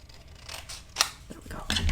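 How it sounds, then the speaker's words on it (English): Scissors make a few short, crisp snips, trimming an angle into the top of a paper mini album page in a craft setting, close to the mic with faint handling noise. "I'm just going to trim a little bit of an angle into this top as well."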